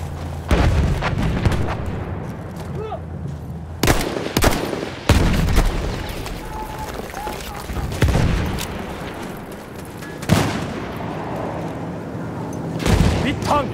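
Battlefield 1 combat: heavy artillery blasts land every few seconds over continuous crackling rifle and machine-gun fire, loud and close with a rolling, battlefield-wide din.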